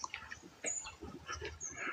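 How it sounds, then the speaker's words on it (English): Faint bird chirps and calls scattered through a quiet outdoor setting, several overlapping, distant and soft. "Hear the birds."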